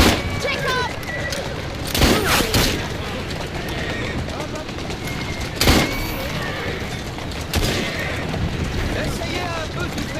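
Gunfire in the video game Assassin's Creed Syndicate cracks out in several sharp bursts amid a busy, rumbling game soundscape, with people talking throughout.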